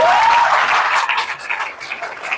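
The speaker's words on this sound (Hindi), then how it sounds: "अब तो तालियां बजा दो फिर तो" An audience breaks into brief applause at a talk, producing a short wash of scattered clapping and crowd noise with a faint whistle-like tone at the onset.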